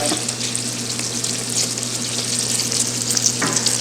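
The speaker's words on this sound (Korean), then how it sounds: "자, 이제 팔자 모양도 한번 튀겨보겠습니다" Figure-eight bread doughnuts deep-frying in oil produce a close, steady hiss and crackling sizzle that stays constant, with a small clink near the end and no voices.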